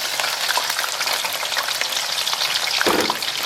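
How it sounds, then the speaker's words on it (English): Squid and shrimp sauté with garlic in a hot pan for linguine ai frutti di mare, a steady loud sizzle and crackle throughout, with a brief stirring scrape near the end. "And we're just going to saute this for about a couple of minutes to get the garlic flavor into the seafood."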